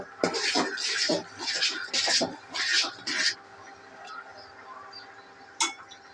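A spoon stirs chicken corn soup in a pot, making a run of rhythmic clinking, scraping strokes up close, then quiet with one last sharp clink.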